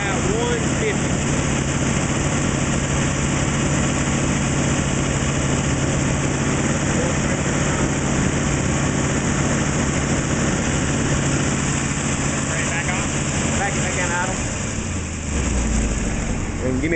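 A rebuilt flathead engine idles steadily on a test run, a continuous low rumble with a constant drone that holds throughout before the pitch drops near the end.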